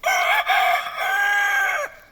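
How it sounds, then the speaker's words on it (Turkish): A rooster crows once, a loud, drawn-out call lasting about two seconds, close by and alone. "Akıllı horoz."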